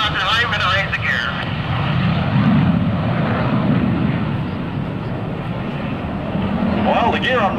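A C-9B Skytrain jet climbing out after takeoff at an airshow produces a steady, loud engine roar throughout, with voices talking over it.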